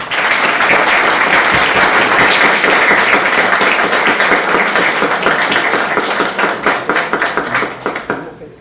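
A large audience applauds loudly and steadily for several seconds, the clapping thinning out and fading at the end.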